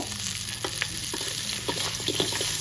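Chili sizzles and crackles in a hot pan while being stirred for Thai chili-salt chicken, a steady frying hiss with scraping clicks, close by.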